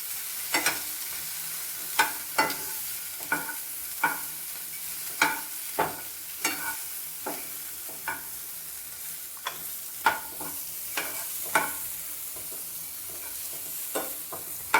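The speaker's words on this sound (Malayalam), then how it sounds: "അങ്ങനെ ഇളക്കി കൊടുക്കാം. എന്നിട്ട് നമുക്ക് മറ്റേത് ഇട്ട് കൊടുക്കാം. നമുക്ക് ഇളക്കാം." A quail egg snack frying in a pan and being stirred: a steady soft sizzle broken by repeated sharp scraping strokes of the spoon, close and clear.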